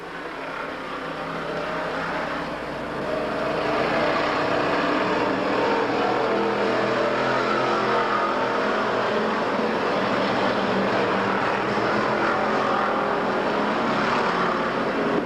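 Race cars in a 150-lap enduro on an oval track roar past in a steady, loud, sustained engine drone that swells slightly partway through, with no talk over it.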